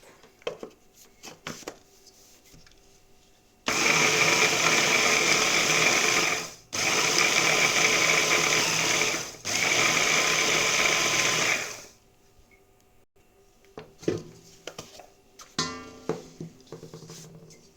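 A blender grinds dried ingredients into a homemade seasoning, running loud and close in three long roaring bursts separated by brief pauses, with quieter clatter and handling before and after.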